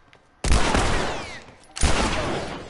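Two loud, close gunshot blasts from The Last of Us Part 3 video game, each followed by a rumbling decay, spaced about a second and a half apart.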